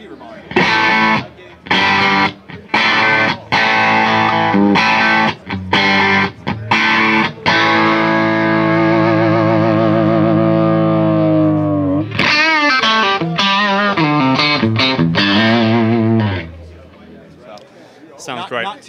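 An electric guitar through a Fender Reverb Deluxe tube amp head plays choppy distorted chords, then a long ringing sustained chord with reverb tail, followed by more strummed bursts before fading out.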